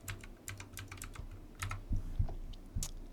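Typing a password on a computer keyboard, a quick scatter of light key clicks in an uneven rhythm, close and fairly quiet, with no voices.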